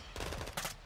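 Rapid automatic gunfire from Call of Duty Modern Warfare 2, two loud, dense bursts in quick succession at close range.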